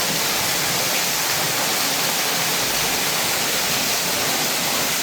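Sewage water gushing into a flooded basement from blocked manholes, a loud, constant broadband rush like a waterfall, steady and unbroken throughout.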